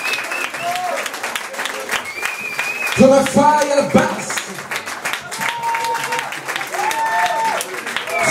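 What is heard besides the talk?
audience applause at a live concert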